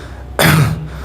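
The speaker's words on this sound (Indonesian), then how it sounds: "tiba-tiba ada suara batuk." One abrupt, forceful cough sounds close and loud, standing alone with no speech around it.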